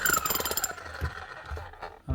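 A repaired Bosch or Milwaukee rotary hammer drill running after new brushes and cable, giving a burst of rapid percussive hammering that fades into a lighter rattling run with a few uneven knocks.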